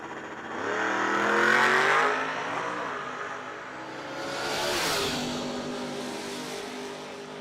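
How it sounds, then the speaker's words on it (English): Drag racing cars, a Buick Grand National in the left lane and a 2001 Camaro in the right, launch down the strip at a streetcar shootout, engines roaring loud and close, swelling then fading as they pull away. "Ralph Rubino over there in the left lane, Grand National"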